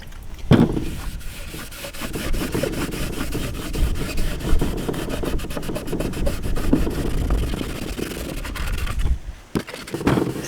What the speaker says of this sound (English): So I'm going to start by giving it just a wipe down.